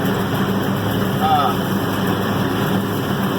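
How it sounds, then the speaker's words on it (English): Steady loud mechanical drone and rumble of a combine harvester's cylinder vibrating while harvesting beans, with wind noise over the microphone and a brief voice in the middle. "I don't know if you're hearing the vibrations from the cylinder"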